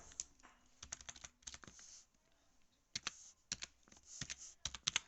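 Close typing on a computer keyboard while entering C graphics code for drawing a rectangle, with clustered bursts of key clicks separated by short pauses and a quiet gap midway, and no talking.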